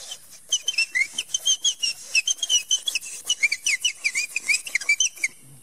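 Human voice imitating parrot calls, a rapid series of high-pitched whistled chirps and squawky bird-like notes in quick bursts, close and clear with no talking.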